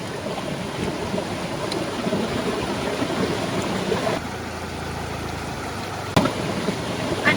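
Steady river water rushing and splashing in an outdoor setting where clothes are being washed, a continuous broadband wash with a brief sharper splash near the end, no voices.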